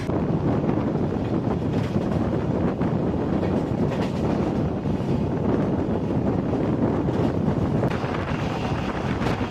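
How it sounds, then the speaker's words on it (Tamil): A Garib Rath train on the Chennai to Delhi route departs early on a winter morning, with a steady rolling rumble heavily mixed with wind buffeting the microphone throughout. "இன்னைக்கு வந்து ரொம்ப நாள் கழிச்சு அகெயின் ஒரு ஏர்லி மார்னிங் டிபார்ச்சராக கரீப் ரத்தில் கிளம்புறோம்"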